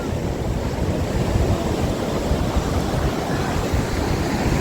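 Sea waves breaking at Puri beach in Odisha, a steady loud roar of surf mixed with wind buffeting the microphone, continuous throughout with no voices.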